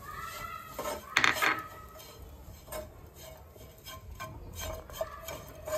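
Grated coconut is stirred in a pan over a very low flame, with soft scraping and a few sharp utensil clinks, one louder clatter early, over a quiet hiss.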